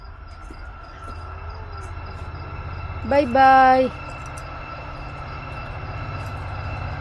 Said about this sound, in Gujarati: જો ટ્રેન જાય છે.